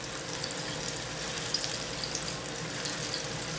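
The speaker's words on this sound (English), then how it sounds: "while you're frying maduros" Ripe plantains fry in hot oil, a steady soft sizzle with faint crackles and pops throughout, close by and with no voices.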